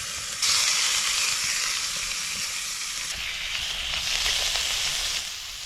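Beef sizzles loudly in butter in a wok over a campfire at a solo camp beside a log cabin, a steady close hiss that swells and eases without talk.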